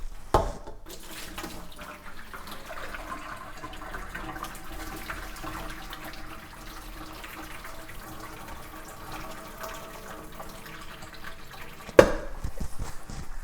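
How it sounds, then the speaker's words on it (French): Boiling water poured off blanched collard greens: a continuous rushing splash of liquid running into a sink, ending with a sharp clunk near the finish. "je vais enlever l'eau bouillante"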